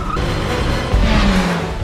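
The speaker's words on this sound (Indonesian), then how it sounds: "mereka mendapatkan sebuah mobil dan aksi kejar-kejaran pun terjadi" A car chase, with an engine roaring up close and a brief tire squeal or skid partway through, loud and continuous with no voices.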